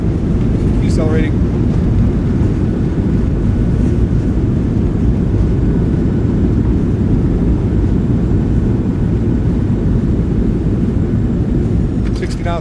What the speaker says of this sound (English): Goes down gently. Reversers are out. Decelerating.